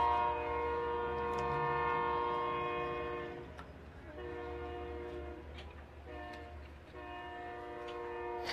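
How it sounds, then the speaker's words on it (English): A passing train blows its horn in several long, moderately distant blasts separated by short gaps, with the low rumble of the rail cars continuing underneath. "we're going to hear a train"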